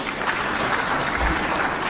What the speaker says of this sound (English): we give him a clap